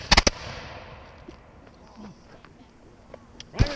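Revolutionary War reenactors on a winter walk fire a musket volley, a quick ragged cluster of sharp loud cracks at the start and another close report near the end, with faint voices in between.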